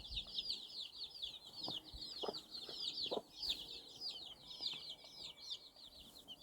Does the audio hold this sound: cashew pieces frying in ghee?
no